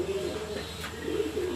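Pigeons being fed grit coo softly and steadily nearby in one short, continuous low murmur.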